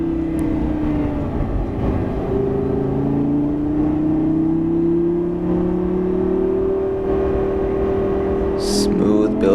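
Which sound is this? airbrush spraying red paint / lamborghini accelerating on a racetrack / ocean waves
lamborghini accelerating on a racetrack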